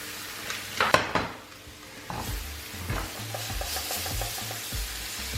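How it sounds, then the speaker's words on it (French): Asparagus tips sautéing in butter in a pan: soft, steady sizzling with a few utensil knocks and scrapes against the pan early on, close by, with no talk. "On va juste les faire revenir dans un peu de beurre comme ça."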